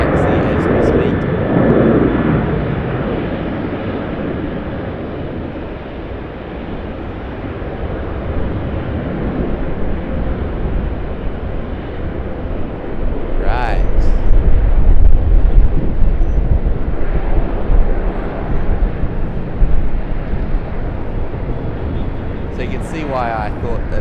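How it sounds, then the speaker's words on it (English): A Boeing 777-300ER airliner begins to taxi at Sydney Airport, its jet engines making a broad, continuous roar that swells slightly midway, heard alone without voices. "All Black 777-300ER just beginning its taxi as we speak."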